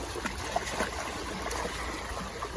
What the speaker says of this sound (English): the water is higher and moving faster than normal